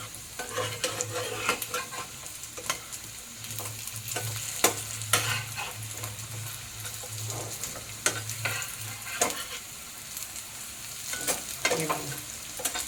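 Baby shrimp patties fry in a pan with a steady crackling sizzle, punctuated by repeated sharp spatula scrapes and taps at irregular intervals, all close and fairly loud, with a low hum underneath for much of the time.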